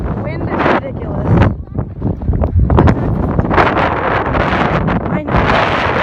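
Strong beach wind buffets the microphone with loud, roaring gusts, and people talk over the rumble.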